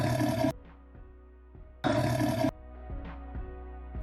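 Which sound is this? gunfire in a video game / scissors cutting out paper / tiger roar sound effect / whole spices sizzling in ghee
tiger roar sound effect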